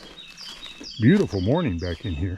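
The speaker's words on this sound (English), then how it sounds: "Listen to the bird sing to us." Faint bird chirps in the background while someone talks over them.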